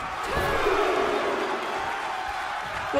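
Crowd noise from a women's wrestling match in the WWE 2K24 video game, a steady roar of cheering that holds evenly for about three seconds with no clear talk over it.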